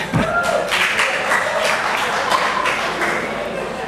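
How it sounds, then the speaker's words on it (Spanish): A church congregation claps during a sermon, with dense, moderately loud applause running throughout and a speaking voice over it. "No aplaudas porque se puede arreglar"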